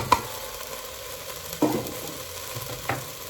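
Celery and carrots hit a hot pan and stirred for browning, giving three separate scraping, sizzling bursts spaced about a second and a half apart over a soft steady fry.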